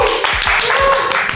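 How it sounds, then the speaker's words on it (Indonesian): An audience at a campus talk show applauds a national-team archery champion, a loud, steady burst of many hands clapping close by, with voices faint underneath. "Tepuk tangan dong"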